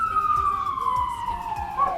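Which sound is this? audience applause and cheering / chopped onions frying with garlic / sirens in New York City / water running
sirens in New York City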